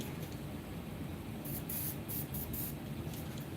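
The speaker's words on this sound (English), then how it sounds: "then we're gonna spray it with the WD-40" WD-40 sprayed onto a bicycle bottom bracket in a few short hissing bursts, close and fairly quiet, with a faint background hiss between them.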